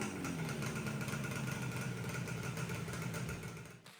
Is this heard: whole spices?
no